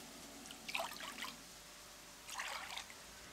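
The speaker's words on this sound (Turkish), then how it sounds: "Bu arada derin bir kaseye 3 su bardağı su alıyorum." Water is poured from a glass into a deep bowl to make dough, two short trickling pours a moment apart, soft and close with quiet gaps between.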